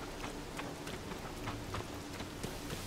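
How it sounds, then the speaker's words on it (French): Steady rain patters continuously with small drops ticking on a surface in The Legend of Zelda: Tears of the Kingdom during a thunderstorm; no thunder rumble stands out during this short stretch. "Donc, il pleut avec un orage en plus de ça."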